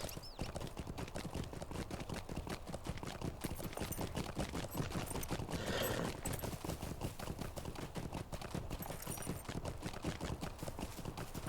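A horse's hooves clip-clop rapidly and steadily in a video game, a continuous fast galloping rhythm close up and fairly loud throughout.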